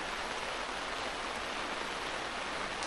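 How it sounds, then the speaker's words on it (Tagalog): Heavy rain heard from inside a tent while camping by a river, a dense, even hiss of drops drumming on the fabric with no pause or talking. "At nagising kami dahil sa lakas ng ulan."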